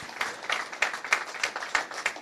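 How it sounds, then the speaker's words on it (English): Applause from a seated audience at an International Women's Day panel event, welcoming a panelist; a short, fairly close burst with individual claps rising in distinct peaks, no talk over it. "May we give her a resounding round of applause."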